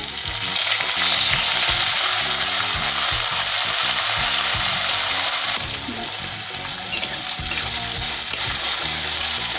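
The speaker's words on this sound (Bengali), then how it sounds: "পেঁয়াজগুলোকে একটু ভাজা ভাজা করে নেব।" Chopped onions frying with ginger, garlic, green chilli, dried red chilli and five-spice in a wok, a loud continuous sizzle with scraping and stirring clatter throughout, no talking.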